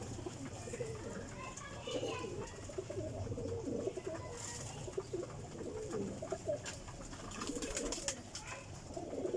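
Rampuri and Ferozpuri pigeons coo softly in a loft, low repeated calls rising and falling under someone talking nearby.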